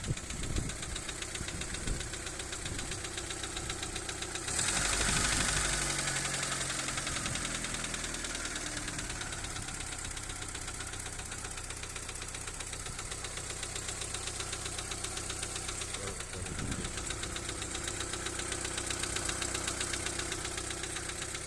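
A Daewoo Nexia with a 1.5-litre engine idles with a steady rapid knocking from the motor, close and fairly loud, with a brief rise in revs partway through and no one talking over it.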